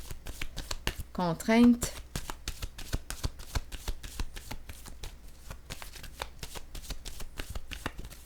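Tarot cards are laid down and shuffled with brief papery flicks and a quick riffle near the start, alongside soft taps and a speaking voice throughout.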